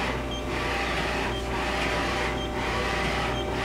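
A Mori Seiki NH4000DCG horizontal machining center with a 400 mm pallet and full B axis runs with a steady, quiet mechanical hum and a soft whirring wash that swells and fades gently, with no talk.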